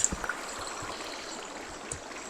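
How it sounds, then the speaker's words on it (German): Rushing water from a waterfall in the video game Minecraft, a steady, even hiss with a few soft taps, moderately quiet and heard alone. "eben der Wasserfall, der ist schon geil"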